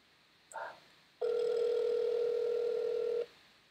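A phone call goes unanswered: a brief tone blip followed by one steady, loud electronic ring or dial tone lasting about two seconds, then it cuts off.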